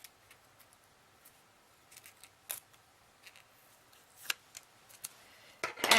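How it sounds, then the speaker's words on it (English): Vinyl sheet being peeled: soft crackling rips and a few sharp tearing snaps close by, sparse and quiet, growing louder near the end, no talking. "Peel the vinyl off."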